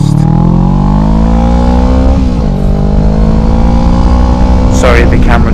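A Kawasaki Ninja 650R fitted with an Arrow aftermarket exhaust roars loudly up close while being ridden, its engine note climbing and shifting pitch as it accelerates, with a brief dip mid-run, and wind buffeting near the end.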